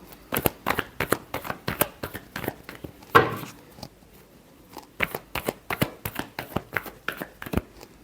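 Tarot cards shuffled by hand in rapid, crisp riffling bursts, a steady run of flicks broken by one heavier shuffle, close and alone without talk.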